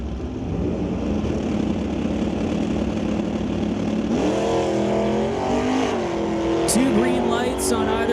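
Drag racing cars at an NHRA event, a Nova and a wheel-standing Merc, with a loud sustained engine roar that rises in pitch partway through as a car launches, under continuous commentary.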